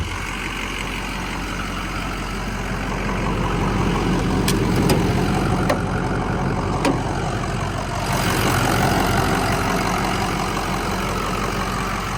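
A 2006 Ford F350 dually pickup with a hot 6.0 Powerstroke diesel idles steadily up close, a continuous low rumble with a few faint clicks and no talking.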